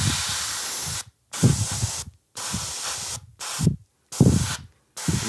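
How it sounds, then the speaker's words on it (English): Thinned metallic paint hisses from an airbrush in five short controlled bursts, each lasting about a second, separated by clean silent gaps, close and steady. "This is a very controlled spray."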